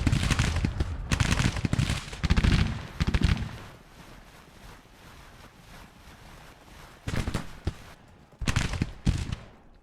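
Rifle volleys from soldiers in a Civil War video game battle, a couple of bursts of crackling gunfire at the start, a quieter lull of distant shots, then two more loud volleys near the end.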